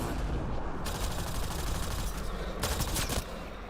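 Dense, continuous gunfire from a firefight against pirates in the video game Mass Effect: Andromeda, rapid rounds running unbroken throughout with heavier bursts near the end.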